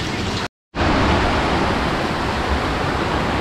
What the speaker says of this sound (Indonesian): Jadi air di sini itu terus mengalir karena berasal dari mata air dari sungai.